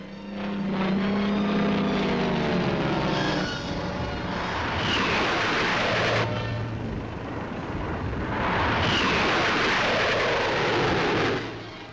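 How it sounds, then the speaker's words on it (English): Fighter aircraft fly over a city during a large-scale air raid exercise, their engines droning loudly and continuously, rising and falling as the planes pass overhead, with no talk. "realistic scenes show some of the Dominion's fighters going into action"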